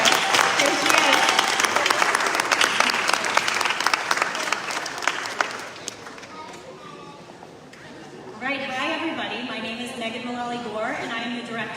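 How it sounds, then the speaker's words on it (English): Audience applause at an evening community appreciation event, a dense wash of clapping for several seconds that thins out, then gives way to someone speaking over a microphone. "Can we give her a round of applause for all of her years of service?"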